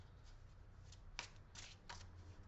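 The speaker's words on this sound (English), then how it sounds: "I will stop shuffling when it feels right to stop shuffling." Tarot cards being shuffled by hand at close range, a quiet run of soft papery riffles and slides with a few sharper bursts over a low steady hum.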